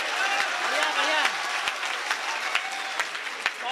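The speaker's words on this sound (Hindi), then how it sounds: "जोरदार तालियां बजा दीजिए" Audience applause at a Hindi poetry gathering (kavi sammelan), dense steady clapping from a sizable crowd with occasional sharper claps and a faint whistle-like tone over it.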